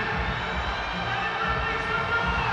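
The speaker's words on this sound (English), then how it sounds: "The crowd are yelling at her." A crowd at an IFSC Climbing World Cup lead final in Edinburgh yells and cheers in a steady, distant roar that fills the whole moment.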